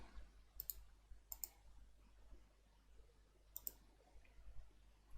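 Computer mouse button clicks in an office, with three quick double-click bursts at the start, shortly after and later on, heard faintly over a low background hum.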